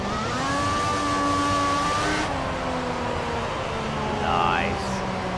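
An F1 car engine screams through a qualifying lap in the F1 2014 racing game, with a high, steady whine that rises and shifts pitch through gear changes. A voice is present in the background.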